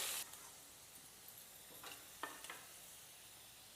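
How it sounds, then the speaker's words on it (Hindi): Chopped potatoes fry in hot mustard oil in a wok, giving a faint, steady sizzle with a few soft scrapes and stirring clicks, heard on its own without talk. "सबो काटल आलू ला डालबो और आलू ला भी बढ़िया ले भून लेबो"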